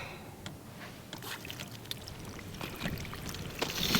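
Irrigation water pours and trickles into a ring around a newly planted white mulberry tree in a winter orchard, a steady wet splashing with soft drips that grows gradually louder.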